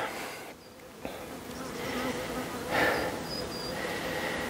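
Honeybees buzz steadily around a tilted beehive, a dense insect hum that swells and fades as they move close, with brief higher whines passing by.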